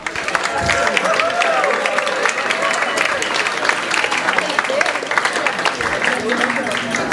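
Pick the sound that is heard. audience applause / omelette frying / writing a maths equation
audience applause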